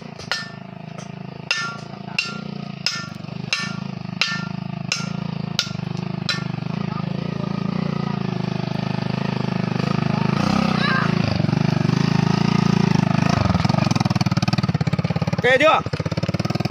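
A motorbike climbs a freshly built dirt road through a coffee farm, its engine steady, close and loud, rising as it labours uphill, after a run of sharp regular hammer knocks, with people talking over it.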